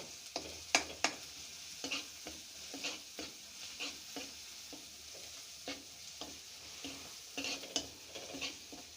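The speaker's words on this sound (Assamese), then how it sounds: "আদা নহৰুৰ গোন্ধটো নোযোৱালৈকে অলপ সময় ভাজি ল'ব লাগিব যিহেতু গোন্ধটো থাকিলে খাবলৈ ভাল নালাগে সেইকাৰণে মই এইখিনি লৰাই ভাজি আছোঁ" Liver stir-frying with ginger, garlic and cardamom in a pan, a soft continuous sizzle under rhythmic scrapes and knocks of a spatula, close and fairly quiet.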